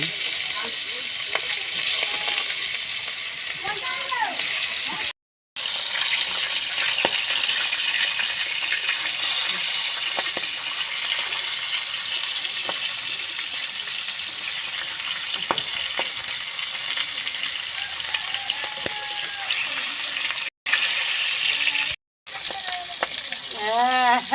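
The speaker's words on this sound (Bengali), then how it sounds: "কড়াই তেল দিয়ে নেড়ে নিতে লাগলাম, তা মাছ তুলে দিতে লাগলাম।" Magur catfish fries noisily in hot oil in a wok, a loud, constant crackling sizzle with occasional stirring scrapes and brief cutoffs, no speech.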